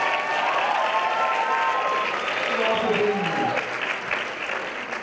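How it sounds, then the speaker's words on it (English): Applause from a talent show audience honoring the judges, a dense sustained wash of clapping that fills the room and eases off slightly toward the end, with some crowd noise and faint voices mixed in. "give another round of applause for all of our judges."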